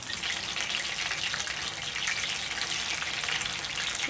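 Spring rolls fry in very hot oil, giving a loud, even, continuous hiss and crackle that stays close throughout.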